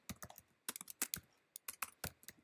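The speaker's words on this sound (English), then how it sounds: "type something" Bursts of keystrokes on a computer keyboard while building a Spring Boot CRUD web application, quick clustered clicks with short pauses between, close and clear with no talking.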